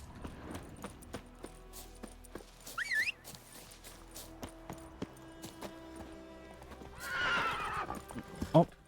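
Roach the horse in The Witcher 3 video game clops its hooves steadily at a walk, then lets out two loud whinnies, one early and one near the end, with faint ambient game sound behind.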